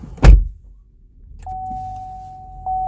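A 2019 Chevrolet Equinox AWD power seat motor runs with a steady electric whine as the seat travels back after the ignition is switched off, following a single sharp click or thump near the start.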